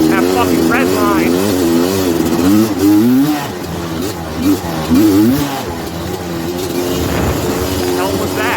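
Suzuki LT250R two-stroke ATV engine revving high, its pitch swooping up and down in repeated bursts near the listener, with someone talking over it.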